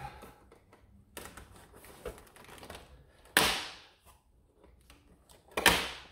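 Cardboard and plastic packaging of a Dart Zone Pro MK3 blaster is cut open, with quiet scratching and tapping broken by two sharp, loud tearing bursts.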